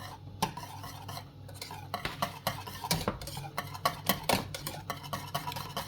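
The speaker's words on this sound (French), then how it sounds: "là on va mélanger à nouveau" Lasagne filling of salmon and leek being stirred together with parmesan, chives and herbes de Provence: repeated close scraping and clinking strokes of a utensil against a bowl, in an irregular rhythm with no talk.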